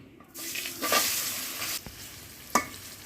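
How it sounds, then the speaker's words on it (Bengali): Chhana (fresh cottage cheese) tinted with turmeric frying in hot oil in a wok, a steady close sizzle with stirring scrapes and a couple of sharp utensil knocks near the end; no one speaks. "তেল গরম হয়েছে এখন আমি সানা দিয়া বাজিলাম"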